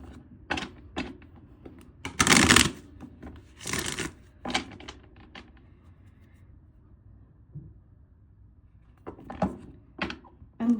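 Tarot cards being shuffled, with brisk papery riffles and soft handling clicks, including a longer burst in the middle, heard close and alone in a quiet room.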